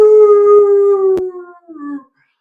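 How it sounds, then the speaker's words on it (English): A dog howls close by in one long, wavering cry that slowly falls in pitch, breaks briefly, and trails off after about two seconds. "your dog is howling like a beast"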